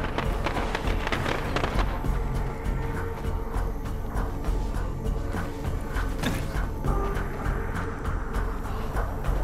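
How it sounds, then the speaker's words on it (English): Firecrackers go off in the zombie survival video game State of Decay, used as a distraction. A dense, continuous string of sharp crackling pops runs loud and busy throughout. "Okay, so I really want to talk about how those firecrackers distracted all those zombies."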